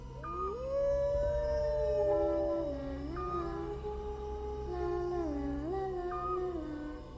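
Long, wavering howls from dogs at around 2 a.m. rise and fall over steady low background noise, several voices overlapping from some distance.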